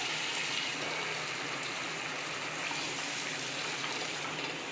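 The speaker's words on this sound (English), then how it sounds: "I will add little bit of water." Water poured into a pan of simmering aloo dum with kasuri methi over a medium flame, a steady broadband gush running evenly and fairly quiet for the whole stretch, with no voices.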